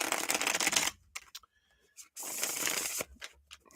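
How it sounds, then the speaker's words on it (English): Tarot cards being shuffled by hand in two bursts of dense, crisp riffling, close and fairly loud, separated by a short pause with a few soft taps. "Shuffle."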